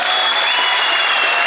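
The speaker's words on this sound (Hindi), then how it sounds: "एक बार तालियां जंग बजाइए" A crowd claps loudly and continuously at a Hindi poetry gathering held for a municipal corporation anniversary, a dense unbroken wash of applause.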